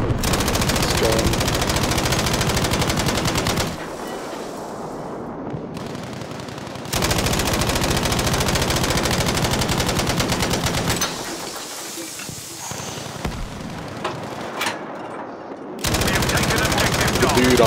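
A mounted machine gun in the Battlefield V game fires in long sustained bursts on the Narvik map, rapid and loud, with short pauses between bursts and some talking over it.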